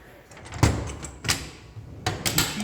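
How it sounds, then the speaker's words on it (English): The door of a power-locked display measurement system is opened, giving a few clunks and sliding thumps spread over a couple of seconds, close and moderately loud, with no talking. "If you want to open the door, you have to power up, and you can open like this."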